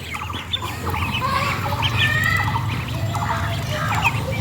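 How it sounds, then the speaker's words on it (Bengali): A Muscovy duckling peeps in quick, high, repeated calls over a low background murmur, steady and close throughout. "এই সেই চীন হাঁসের বাচ্চাটা"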